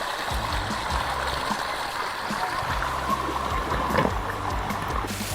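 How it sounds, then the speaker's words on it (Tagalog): River water flows steadily along the Taklang Anak River in Sariaya, Quezon, a close, continuous rushing and trickling with small gurgles throughout. "Sa lagaslas pa lang ng tubig ay talagang nakakahalinang lumusong at lumangoy"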